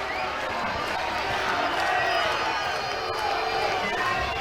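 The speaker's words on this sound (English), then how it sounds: "Crowd jeering a little bit as Don Brown went up the third baseline" Spectators at an Arkansas versus Ole Miss college softball game jeer with a steady, moderately loud crowd murmur that continues through the whole clip, with a commentator speaking over it.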